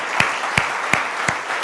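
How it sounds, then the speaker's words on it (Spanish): A church congregation claps in unison during worship, with sharp, evenly spaced claps about three times a second over a steady background wash. "Dele un aplauso grande a Dios."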